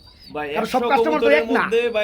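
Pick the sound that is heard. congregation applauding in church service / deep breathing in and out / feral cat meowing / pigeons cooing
pigeons cooing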